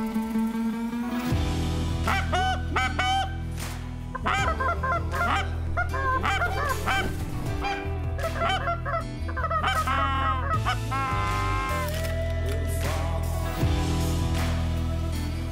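Geese and ducks honk and call loudly in a dense, continuous chorus over a steady low rumble during a morning waterfowl hunt, with green-winged teal among the birds.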